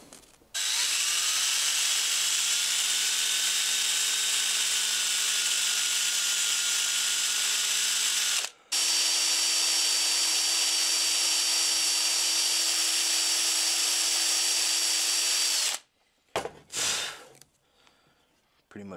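A power drill whines at high speed in two long bursts, drilling holes in wood, a brief pause between them, then a few short clattering sounds as it stops.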